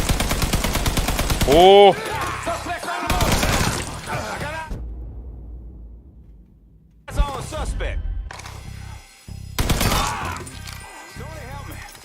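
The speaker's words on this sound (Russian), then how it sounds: "А вот пулемет имба" A machine gun rattles off loud, close bursts in the Mafia 3 Definitive Edition game, breaking off for a quiet gap before firing again, with a voice speaking between and over the shots.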